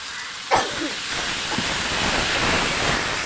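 Cumin and coriander paste with onions hissing and steaming in a hot pan after water is poured in, a loud sudden burst that settles into a continuous sizzle, no talk.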